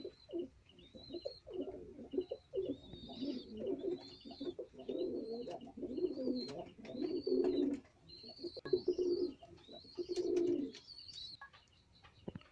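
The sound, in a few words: female Kalshira high flyer pigeon cooing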